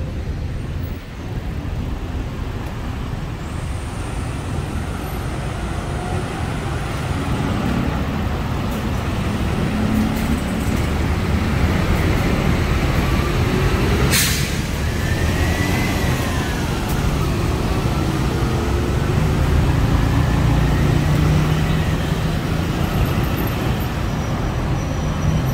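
Busy road traffic near a university campus in Bangkok hums steadily, with a passing vehicle swelling briefly midway and a constant roadway roar throughout, without voices.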